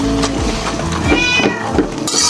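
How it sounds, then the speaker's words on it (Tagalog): A cat meows several times close to the microphone in a kitchen where tofu and kangkong are being cooked, its short rising cries coming in quick succession with clattering in the background. "Pasaway na pusa ka."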